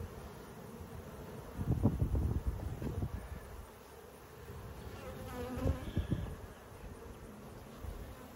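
Honeybees buzz around an open hive during an inspection, a close, wavering drone that swells and fades as bees fly near, with brief handling knocks underneath.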